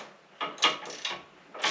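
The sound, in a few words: 7/16 ratchet wrench turning a bolt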